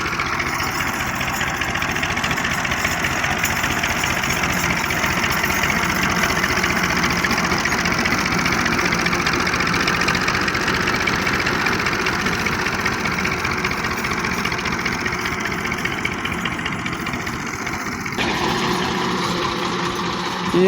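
A Massey Ferguson 240 tractor runs steadily while pulling a zero-till drill in a field, its diesel engine a loud, continuous close-up chugging throb with no voices.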